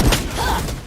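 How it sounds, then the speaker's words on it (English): A swarm grenade goes off in Valorant, a short, close, punchy burst with a rattling thud that fades within a second. "Swarm grenade out."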